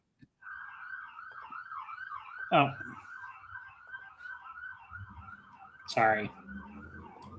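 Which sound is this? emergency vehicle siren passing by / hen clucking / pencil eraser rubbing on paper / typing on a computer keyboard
emergency vehicle siren passing by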